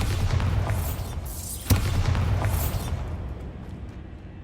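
A Bombarda spell explodes in the video game Hogwarts Legacy: one sharp, heavy boom cuts through a dense, rumbling game soundscape, and the loud backdrop then slowly fades.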